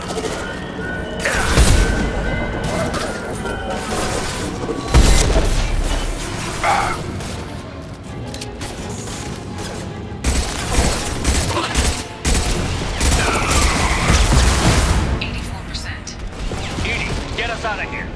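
Weapons fire in Mass Effect 2 as loud, dense bursts, crashes and booms overlapping continuously, with mechanical clatter and a voice speaking over the battle.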